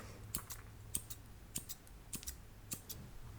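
Scissors snip hair in a steady rhythm, about six crisp metallic cuts at even intervals, close up with a faint low hum underneath.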